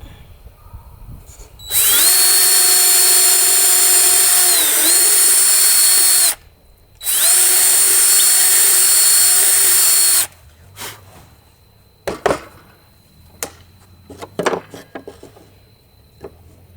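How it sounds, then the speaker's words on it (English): A power drill bores a hole through a wooden drawer front of Luan plywood in a truck camper rebuild: two loud, steady whining runs of a few seconds each with a short pause between, followed by scattered clicks and handling knocks. "Now I'm going to drill a hole for that"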